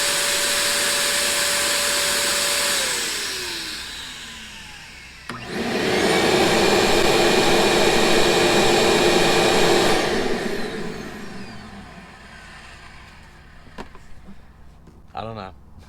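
High-performance vacuum cleaner runs inside an RV, a loud steady whine that winds down, then a second powerful motor surges on and roars before fading out, close by, with a brief clattering at the end.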